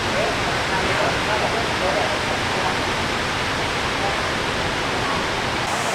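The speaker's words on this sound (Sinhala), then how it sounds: "සෑහෙන ලොකු waterfall එක සද්දයක් තමයි ඇහෙන්නේ" A large waterfall in a Thai rainforest, a loud broadband roar of rushing, crashing water that fills the scene steadily and close.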